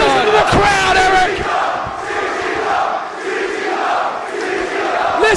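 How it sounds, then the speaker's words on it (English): A packed wrestling arena crowd roars and chants during a Cage of Death ladder match, a loud sustained mass of yelling voices that swells and dips, with shouting cheers rising near the end. "Listen to the crowd, Eric."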